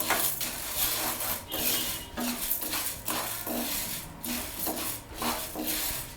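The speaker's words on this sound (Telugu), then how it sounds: "దానిలో మినప్పప్పు వేసి బ్రౌన్ కలర్ వచ్చేంత వరకు వేయించుకోవాలి." Urad dal roasting in a pan on the stove, stirred with repeated rhythmic scraping and rubbing strokes, close and fairly loud, with no voices.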